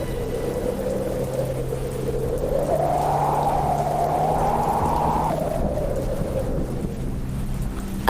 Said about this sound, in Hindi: तभी तेज बारिश का झोंका आता है